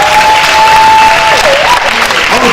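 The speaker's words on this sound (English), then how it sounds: "Let's give a round of applause" Loud, sustained audience applause at a school sports banquet during a third-place trophy presentation, a dense wash of clapping with a voice briefly heard beneath it.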